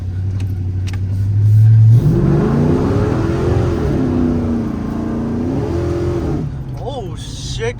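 A 450 hp cammed truck accelerates hard on a test-drive pull, its engine climbing loud and close in a sustained roar for several seconds before easing off near the end.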